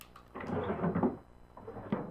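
Wooden drawers are pulled open and rummaged through in the Murder House horror game, a few soft close scrapes and knocks with rattling contents, fairly quiet and with no talking.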